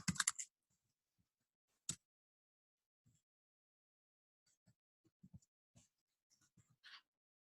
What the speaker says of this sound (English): I simply click into a field and start typing.